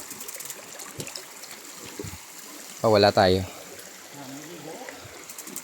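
River water runs and trickles steadily over rocks as people ride bikes along the riverbed, a soft continuous wash with someone briefly speaking over it midway.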